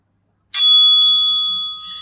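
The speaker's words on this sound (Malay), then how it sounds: "Loceng pertama akan dibunyikan apabila sesi pembentangan video bermula." A single bright bell strike rings out to mark the start of a research video presentation session, its clear metallic tone sustaining and slowly fading in an otherwise quiet room.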